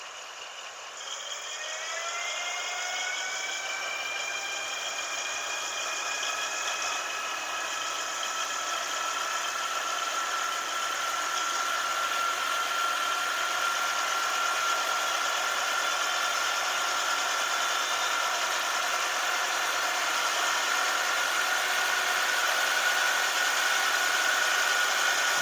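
Model locomotive sound module on a rolling road, its engine drone and whine slowly rising in pitch and loudness as the speed is turned up, steady and continuous without talk.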